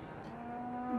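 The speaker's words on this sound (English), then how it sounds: "Man, they're still mooing." A cow in a barn in Farming Simulator 22 gives a single sustained low moo, steady in pitch, heard alone for about a second.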